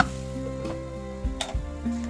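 Raw banana curry fries in a pan with a low, continuous sizzle, while a spoon stirs it with a few short knocks and scrapes against the metal.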